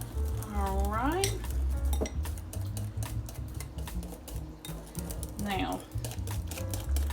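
A spoon scraping and clinking against a bowl while buttermilk pie custard is stirred to break up lumps, steady rhythmic strokes under a person speaking briefly.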